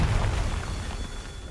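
Confringo spell explosion in Hogwarts Legacy: a deep, rumbling boom with a broad blast that sustains and slowly fades over a second and a half.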